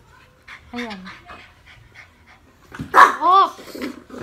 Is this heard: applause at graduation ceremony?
no